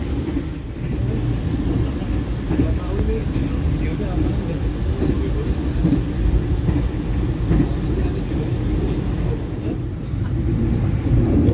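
KLP Direct train rolling slowly on rails past Arjawinangun station, heard from inside as a steady low rumble with faint clatter running unbroken for the whole stretch.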